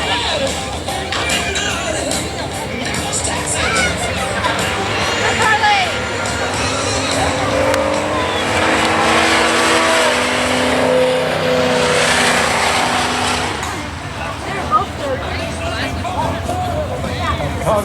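Drag race cars, a Mustang and a smoking Pontiac Le Mans, roaring and accelerating hard off the line at a drag strip, engines swelling loud under a track announcer's talk and crowd noise.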